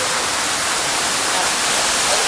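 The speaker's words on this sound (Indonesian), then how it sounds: "Kemudian dia ada air terjun." A cool waterfall beside the Tambun hot springs at the Lost World of Tambun water park: loud, steady broadband rushing of falling water, continuous and close with no breaks.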